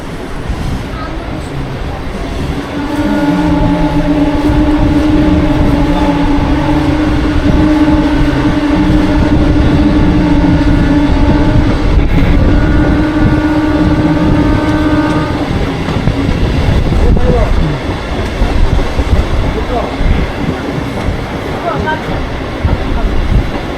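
A Kharagpur–Balasore MEMU local train runs on the rails with a loud continuous rumble and rattle, a sustained tonal hum through the middle, and a busy, clattering run throughout.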